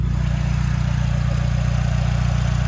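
Idling 2.3-liter turbocharged EcoBoost four-cylinder engine of a 2025 Ford Mustang EcoBoost Premium, a steady low hum heard close up from the engine bay, even and unbroken.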